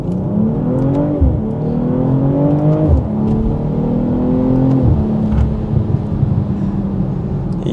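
A 2022 BMW M440i convertible pulls away hard from a standstill, its engine loud and close, climbing through rising revs with quick dips at each gear change.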